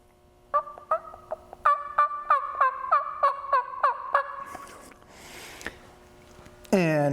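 A mouth call imitates soft turkey tree yelps: a steady run of about a dozen short, nasal yelps, close and fairly loud, followed by rustling and a final rising squeal.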